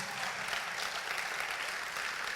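Continuous church congregation clapping, a dense steady patter of many hands, moderately distant with no pauses.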